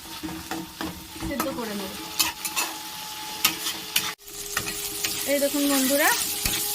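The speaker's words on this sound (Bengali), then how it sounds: "এটা বেশ লাল লাল করে ভাজা হয়ে গেছে।" Tomatoes fry and sizzle in a pan for dhaba-style egg tarka, with steady stirring scrapes and spoon knocks throughout; someone talks over the cooking.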